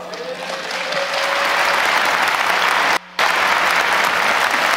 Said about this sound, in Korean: 여러분 다시 한번 큰 감사의 박수를 올려주시면 좋겠습니다